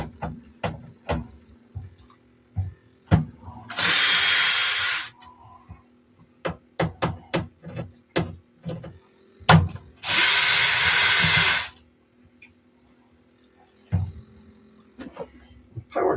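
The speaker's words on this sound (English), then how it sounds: "This is a DeWalt cordless drill." A DeWalt cordless power drill whirs in two sustained bursts of about two seconds each, loud and close, with clicks and handling knocks in between while working on an LG dryer door.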